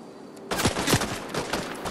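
A sudden burst of gunfire in the video game Fortnite, several rapid cracking shots at moderate distance followed by a scattered rattle of further rounds.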